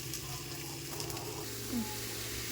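Chopped tomatoes fry with green chilli in a pan for chicken gravy, making a soft, steady low sizzle with faint clinks from stirring, fairly quiet throughout.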